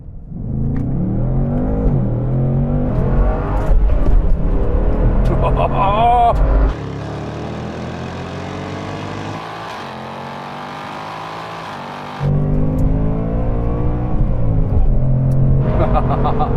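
Ford Mustangs launching in a quarter-mile drag race: loud engine roar rising in pitch through gear changes, then dropping to a lower drone before another surge, with a voice talking over the noise.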